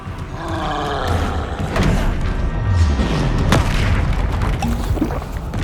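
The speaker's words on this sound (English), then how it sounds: "Incendio! Expelliarmus! Leviosa!" Spell-casting explosions in Hogwarts Legacy, with deep booms and roaring blasts thudding one after another over a rumbling game soundscape, loud and close.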